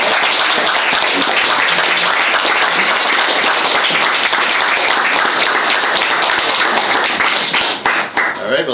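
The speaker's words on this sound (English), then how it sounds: "Good clap." A small audience claps at an Open Space event honoring three performers, a thick run of close, brisk hand claps that holds steady before tapering and breaking up near the end.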